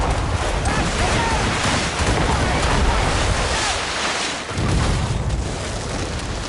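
Ship cannon fire in the naval combat of the video game Assassin's Creed Rogue, heavy booms blending into a constant roar of sea and wind noise; loud and dense throughout with no clear separate blasts.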